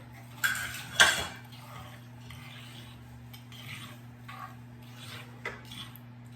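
Hot chili sauce being mixed with lemon juice in a bowl, with two sharp clinks of a utensil against the bowl early on, then softer intermittent scraping and tapping, close and quiet.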